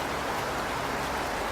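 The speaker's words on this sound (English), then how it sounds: "The rain on the roof is louder here" Rain pattering on a roof, a constant, even wash of drops that stays loud and unbroken from start to finish.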